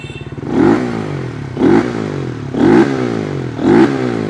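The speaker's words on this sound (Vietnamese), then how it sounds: "Đây là tiếng bô cho các bạn tham khảo không?" A Honda Winner Sonic motorcycle fitted with a CBR exhaust revs in four loud, close blips about a second apart, each rising sharply and falling back to a lumpy idle, with no talking.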